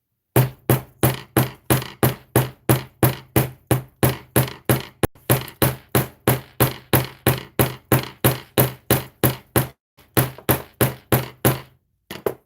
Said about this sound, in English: Coming in with a hammer, loud noises.